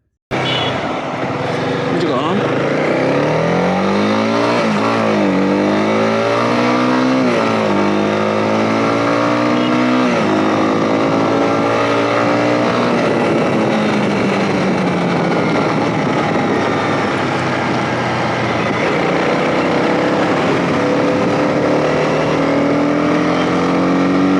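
A 2025 Honda CB 300R motorcycle ridden below 100 km/h gives a constant, close engine drone mixed with heavy wind rush, its pitch rising and falling as the rider shifts and changes speed.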